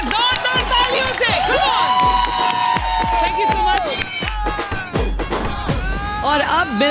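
A crowd at a box cricket league match cheers and shouts for the Chandigarh team's introduction, with loud excited voices and some clapping mixed in, steady and close for several seconds.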